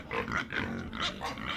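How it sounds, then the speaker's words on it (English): A pig grunts and oinks close by in a loud, continuous run of snuffling grunts with no voices. "Pig,"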